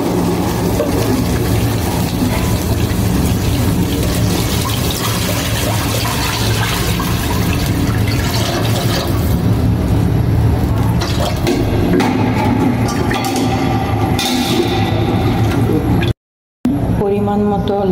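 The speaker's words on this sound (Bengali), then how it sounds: "সবগুলো উপকরণ একসাথে ভাজা হয়ে গেলে আমি পরিমাণ মতো পানি দিয়ে দিব" Water poured into a pan of fried garam masala, ginger paste and chopped nuts for pulao, a loud, steady rushing splash with sizzling that runs for about sixteen seconds before a brief cut and a quieter tail.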